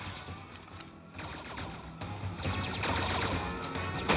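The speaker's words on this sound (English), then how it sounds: "They're shooting me." Repeated gunfire in the mobile shooter MIB, with bursts of sharp shots and rapid volleys growing louder and denser toward the end, close and with no talk.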